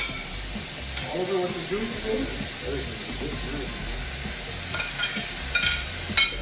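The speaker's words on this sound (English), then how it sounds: "We got the fries going. Add some of the steak." Steak and fries sizzle together in a hot pan with a steady, close frying hiss, while a person talks over it briefly.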